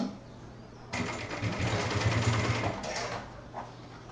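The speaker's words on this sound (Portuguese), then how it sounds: "a gente pode iniciar costurando ele de forma reta" A sewing machine runs in one steady burst of stitching a straight seam on a backpack piece, close and fairly loud, starting abruptly and stopping after about two seconds.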